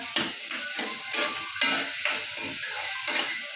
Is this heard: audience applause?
no